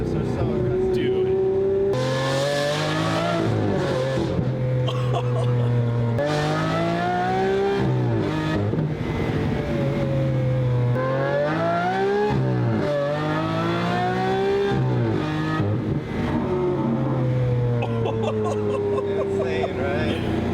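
A Lamborghini Aventador SVJ V12 revs hard and downshifts aggressively, the loud engine note climbing and dropping repeatedly in sharp sweeps with blips between gears, while people talk over it now and then.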